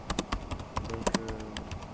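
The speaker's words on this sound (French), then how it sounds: "Je martèle un peu sur le clavier quoi." Rapid, forceful keystrokes hammered on a computer keyboard, a dense run of sharp clicks and clacks close to the microphone with a few heavier thumps, nothing else in the room competing.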